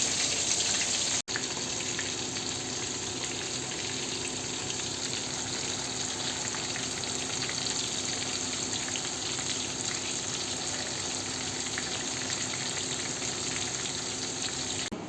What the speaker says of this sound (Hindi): ये फ़िश जो हम लोगों ने फ्राई करनी थी वो फ्राई हो गई है